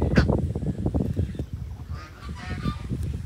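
Ducks, including white ducks, quacking and honking in a busy, overlapping chorus, loud and close, with rapid repeated calls throughout.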